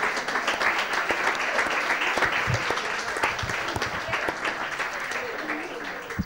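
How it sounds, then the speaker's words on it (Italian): Loud, sustained audience applause at an Italian football event honoring young AC Pisa 1909 players, dense clapping throughout with a voice faintly speaking over it. "Facciamone un applauso forte"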